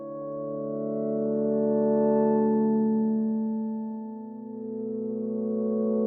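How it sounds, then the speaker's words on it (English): A sustained ambient synth pad washed in resonant, tuned reverb blended with a brighter original reverb, holding steady harmonic tones with a long, full tail that swells and dips slightly before settling. "You're now kind of getting this cool mix of still the brighter, unaffected reverb, but with this resonant, longer tail, more kind of fuller sounding"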